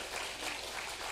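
A church congregation claps to welcome a guest coming forward during a Sunday worship service, a dense, steady applause filling the short moment at moderate volume.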